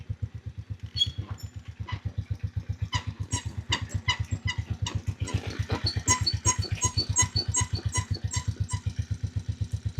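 A new motorcycle engine runs at a steady idle with a rapid, even thumping pulse, close and alone, while a light squeaking rattle ticks over it.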